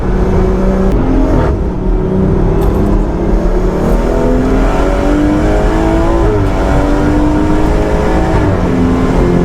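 A BMW M240i tuned to about 510 bhp, with a ZF 8-speed automatic gearbox, accelerates hard on a race track, its loud engine note climbing and dropping steadily through rapid upshifts over a constant roar.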